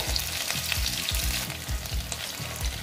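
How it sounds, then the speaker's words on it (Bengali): Chicken pieces fry in a pan over lowered heat for an Afghani chicken dish, giving a steady close sizzle broken by regular rhythmic pulses of stirring. "স্টিমটা একটু কমিয়ে দিলাম, আস্তে আস্তে হবে চিকেন ভাজাটা।"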